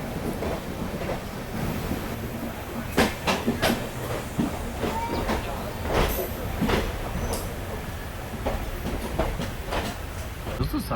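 The Kolkata–Jammu Tawi train passes on an adjacent track with a continuous rumble and a rhythmic run of sharp clickety-clack wheel beats over rail joints, close and fairly loud, as voices speak over it.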